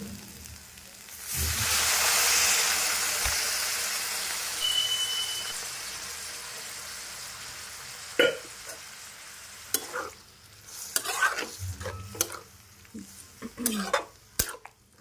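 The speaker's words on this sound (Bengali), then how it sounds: "তো এবারে আমি জল দিয়ে দেব" Water poured into a hot pan of sizzling soybean, cauliflower and potato curry sets off a loud, hissing rush of steam that slowly dies down, followed by scattered clinks and scrapes of a spatula stirring against the pan.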